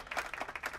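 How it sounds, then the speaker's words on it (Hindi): Students in a classroom clap briefly, a few quick, faint rhythmic claps in a short burst. "ओके, तालियां।"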